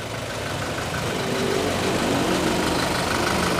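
A cold Toyota Innova Reborn diesel engine idles steadily and close by, a continuous mid-low rumble with a faint knocking texture and no talk over it.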